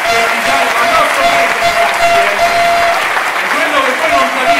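Loud, dense applause from a crowd at a national political party assembly in Rome, clapping for Gianfranco in a steady unbroken wash from start to finish.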